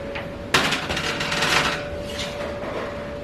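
A metal muffin pan of corn flour muffins clanks once against the oven rack as it is pulled out, followed by a brief rattle and scrape under a steady kitchen hum.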